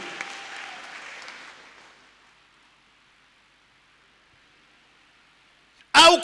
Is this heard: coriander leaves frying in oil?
no